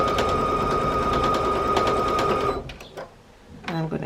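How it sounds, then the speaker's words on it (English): Sewing machine running steadily as it stitches a quarter-inch quilt seam, a fast even whir for a few seconds before stopping, followed by faint handling sounds. "again it's a 1/4 inch seam, and I'm going to sew"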